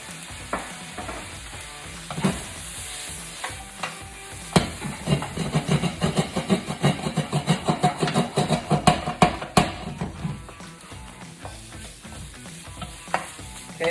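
Shrimp fried rice with soy sauce and sesame oil is stir-fried under a steady sizzle, with a quick run of rhythmic spatula scrapes and clacks through the middle before it settles back to frying.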